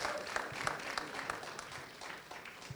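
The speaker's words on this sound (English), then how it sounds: "A big round of applause for this." A live audience claps in a steady, dense round of applause welcoming a young filmmaker to the stage at a talk and film-screening event, lasting throughout without pause.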